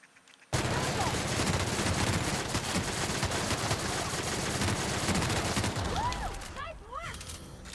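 Rapid automatic gunfire from a gun in The Outer Worlds erupts abruptly and runs almost nonstop for about six seconds as a loud, dense rattle, then trails off into a few scattered shots and echoing tails.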